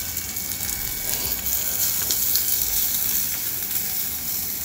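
Onions sizzle and fry steadily in hot oil in a pan, a loud continuous crackling hiss with occasional stirring scrapes and no voices.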